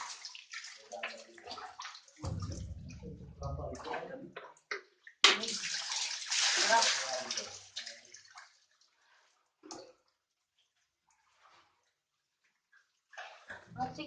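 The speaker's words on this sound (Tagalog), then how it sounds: "ito po yung tubig na nagpapagaling" Healing water running and splashing in a cave on Mount Banahaw, with a burst of louder gushing and sloshing in the middle, while people talk nearby before and after.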